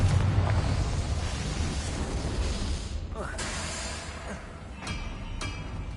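Confringo blasting spell detonating in Hogwarts Legacy, a loud rumbling explosion with sharp crackling bursts fading into a low roar, amid game ambience.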